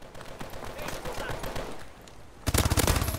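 Rapid bursts of automatic gunfire from an AK-12 in Call of Duty: Advanced Warfare rattle through a busy firefight, with a harsh, loud volley erupting near the end.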